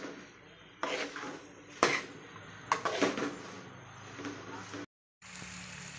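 A spoon stirs ginger paste through a tomato and chilli curry in a metal pan, giving a few sharp scraping clanks against the pan between stretches of quieter stirring while a voice talks.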